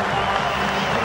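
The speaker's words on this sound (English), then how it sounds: "Craig McMillan deserves the applause of this Hamilton crowd, who will rise to their feet." A cricket crowd in Hamilton applauds and rises after a century at a New Zealand versus Australia one-day international in 2007. A brief, dense wash of clapping and crowd noise, steady and broad.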